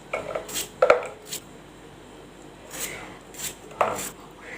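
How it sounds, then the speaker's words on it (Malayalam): A knife thinly slices ash gourd (kumbalanga) for olan, making scattered crisp cuts and soft scraping taps close by, with short pauses between strokes. "ഇതുപോലെ കനം കുറച്ച് അരിഞ്ഞെടുക്കാം നമുക്ക്"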